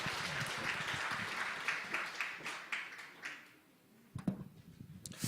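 Church congregation at a presbytery evangelism camp forum claps to welcome a pastor to the stage, a fairly faint round of applause that thins out midway, followed by a few scattered claps.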